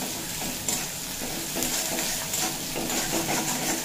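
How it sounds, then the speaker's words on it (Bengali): Onion softening in a frying pan, giving a steady close sizzle with repeated light scrapes and clinks of a spatula as it is stirred throughout. "পেঁয়াজটা ভেজে নেব ব্রাউন করে ভাজতে হবে না বেশ একটু নরম করে নিলেই হবে"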